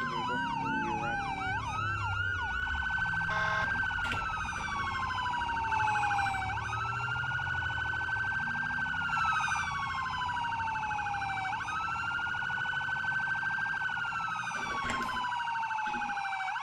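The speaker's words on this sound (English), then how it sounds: "The sirens a lot better." Police sirens in a roleplay video game wail continuously for a long stretch, cycling through repeated rising and falling sweeps and sharp yelping shifts, loud and close.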